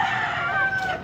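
Close, loud crowing from a young banded gamecock at Carbon market in Cebu, a single drawn-out call that holds steady before tailing off.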